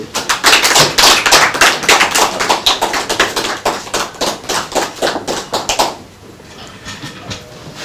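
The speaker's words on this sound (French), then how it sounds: "Sous les applaudissements de" Applause at a ministerial handover ceremony for the Minister of Rural Development: a loud, steady run of many hands clapping in a hall for about six seconds, then stopping abruptly into quiet room ambience.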